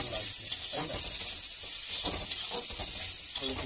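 Rice frying with egg, onion and mixed vegetables, a steady close sizzling hiss with soft stirring scrapes running the whole time beneath faint talk.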